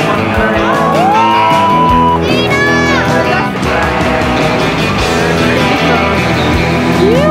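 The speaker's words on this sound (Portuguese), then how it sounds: "Aqui na mão da torcida que veio em peso." A loud, close crowd at the WSL Rip Curl Narrabeen Classic surf contest in Australia shouts, whoops and cheers continuously, with excited voices and yelps layered throughout.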